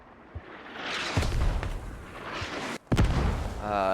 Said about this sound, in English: Ineffective mortars, not doing anything over there.